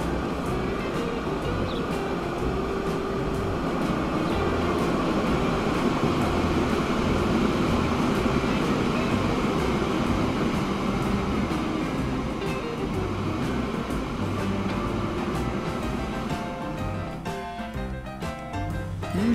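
A train rolls past in the railway simulation Transport Fever 2, a loud, steady rumble of wheels and cars that holds for nearly twenty seconds and thins out near the end.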